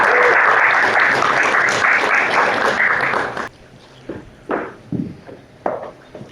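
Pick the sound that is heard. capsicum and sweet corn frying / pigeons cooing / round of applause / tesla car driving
round of applause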